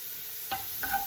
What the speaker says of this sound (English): I'm gonna add in the garlic because I think they're starting to cook